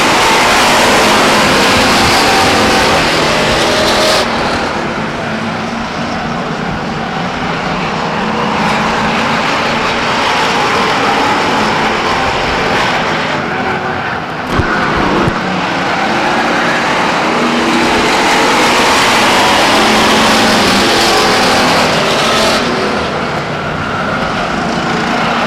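Stock race cars lapping Stockton 99 Speedway, a continuous loud engine roar from a pack of cars that swells and fades as they pass, with no breaks or voices over it.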